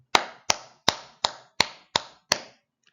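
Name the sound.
normal hand clap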